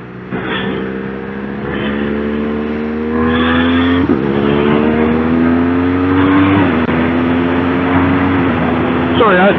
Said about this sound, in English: Just love the sound of that quick shifter